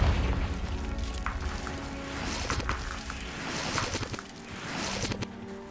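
An explosion from the Confringo fire spell in Hogwarts Legacy, a booming blast with scattered crackling bursts and rumbling debris that rise and fall over several seconds, no speech.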